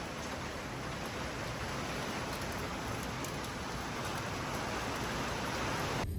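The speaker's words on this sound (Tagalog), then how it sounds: "Hindi tayo makapag-deliver pag gagantong kalakas ng ulan." Heavy rain pours down in a dense, unbroken roar, loud and steady from start to finish.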